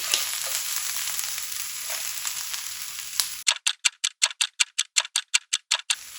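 Okra and onion fry in hot oil in a pan, giving a steady close sizzle for about three seconds. A crisp, evenly spaced run of ticks follows in near silence.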